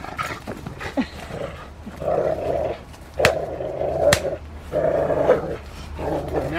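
Rottweiler barking and growling during schutzhund (IGP) protection training, with repeated moderately loud barks and rough vocal bursts through the clip and a couple of sharp impacts in the background.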